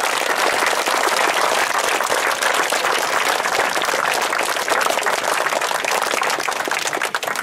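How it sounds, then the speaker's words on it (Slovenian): Steady, dense clapping from a crowd at a children's U9 football tournament medal ceremony, thanking a donor who gave his original jersey to charity; even and sustained for several seconds with no voices over it. "bi prosil en aplavz za njegovo gesto"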